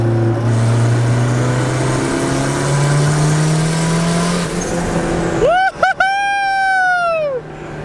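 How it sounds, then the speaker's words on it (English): A turbocharged Honda Civic with a $500 engine pulls hard under boost, a loud steady engine drone rising in pitch, then sharp rev spikes and a rising whine near the end, with voices heard around it. "That's a turbo Civic, baby!"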